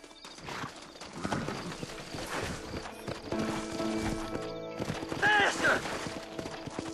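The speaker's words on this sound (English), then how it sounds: "Horses are over here!" Horse hooves clip-clop in Red Dead Redemption, a rhythmic run of clopping alongside gunfire-like bursts and a brief whinny, set against in-game sound.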